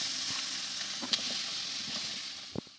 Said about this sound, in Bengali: এখানে আলু পটল সমস্ত কিছু কড়াইতে দিয়ে দেওয়া হয়েছে